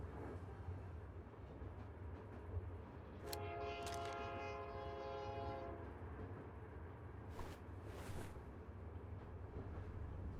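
A train arriving in the video game Murder in the Alps, with a steady low rumble of rolling wheels, a sustained horn blast in the middle and faint brief squeals later, distant and fairly quiet, with no talking.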